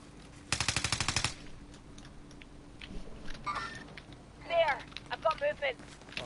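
Rapid burst of automatic gunfire in Warzone, about ten sharp shots in a row, loud and close, followed by scattered game sounds while people talk.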